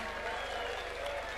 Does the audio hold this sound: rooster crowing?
no